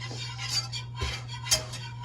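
A spoon stirs pasta in a pot to keep it from burning, giving a few light clinks and scrapes against the metal over a steady low hum, with no one talking.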